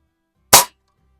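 A single sharp shot from an XS-B3 sidelever .177 springer air rifle fired in a garage, a loud short crack that dies away quickly in a quiet room.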